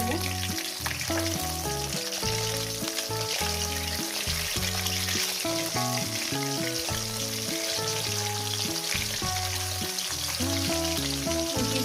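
Pieces of katla fish fry steadily in hot oil, a continuous close sizzle running underneath prominent background music for the whole stretch.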